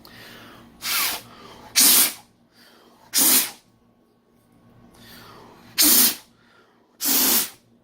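Five sharp bursts of air blown by mouth to clear dust from a laptop, each about half a second long, close to the mic, with short quiet gaps between them and a faint background hum.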